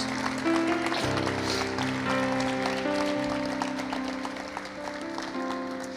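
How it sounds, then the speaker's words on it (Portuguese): A church congregation applauds during a worship service, a broad steady wash of clapping lasting throughout, mixed with sustained organ or keyboard chords and some singing. "Você pode aplaudir ao Senhor."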